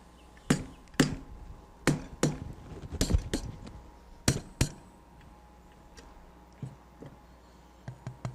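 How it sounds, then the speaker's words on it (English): A mallet tapping the side of a concrete air-content pressure meter, sharp hard knocks in irregular groups of two and three, loud and close, fading to lighter taps at the end. "I'm going to use the mallet to simultaneously try to dislodge any localized pockets of air"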